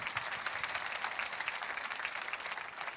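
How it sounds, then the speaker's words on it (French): An audience of men and women at a church gathering applauds together, a dense, even patter of many hands clapping, steady and moderately loud throughout, with no talking over it. "Que pas seulement des femmes, que les hommes applaudissent aussi."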